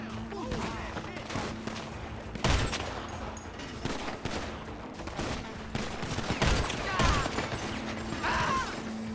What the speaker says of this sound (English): That's a sniper rifle.